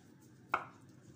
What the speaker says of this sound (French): Là, je continue à couper.